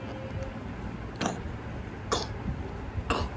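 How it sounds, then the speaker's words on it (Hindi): A baby coughs three times in short, dry bursts about a second apart, set against a quiet room background. "खांसी हो रही है बेचारे बाबू को।"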